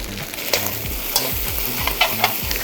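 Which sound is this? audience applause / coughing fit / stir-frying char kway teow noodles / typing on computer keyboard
stir-frying char kway teow noodles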